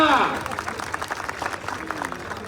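A crowd at a wrestling match claps in quick rapid applause, following a voice over a loudspeaker.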